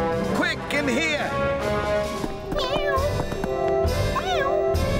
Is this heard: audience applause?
no